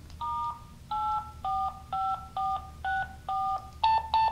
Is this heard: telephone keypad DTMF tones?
yes